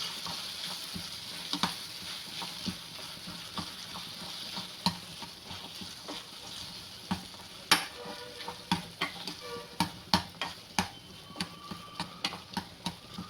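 Cooked, mashed pav bhaji vegetables are stirred and mixed in a pan over a soft sizzle, with a spoon scraping and tapping the pan in quick strokes that become a steady rhythm toward the end.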